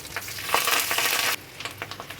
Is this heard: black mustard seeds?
yes